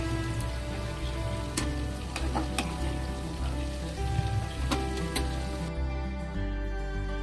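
Fried prawns sizzle loudly as they go into a hot biryani gravy, a dense crackling hiss with scattered sharp pops and spatters that runs steadily throughout, close and without talk.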